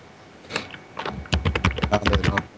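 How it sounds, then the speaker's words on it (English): Loud, rapid clacking of keys on a computer keyboard, a few scattered strokes at first and then a dense burst of close typing. "who's typing very loudly?"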